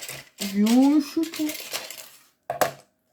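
Scissors are picked up and set ready for cutting paper for a gift box: close metallic clinks and rattling, followed by a short separate clink after a pause.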